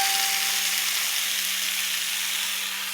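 Potatoes, pointed gourd and pumpkin frying in a pan, a loud, continuous bright sizzle with a faint low hum beneath, steady and close throughout with no talking.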